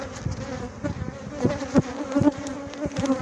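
Honeybees buzz steadily around a weak hive colony in a close, dense drone, with louder passes as individual bees fly near and no talking.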